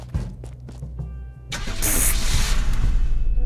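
In Unturned, a car engine cranks after a few clunks and thumps, then catches and settles into a loud, rough idle with a bright hiss, heard up close with no talking.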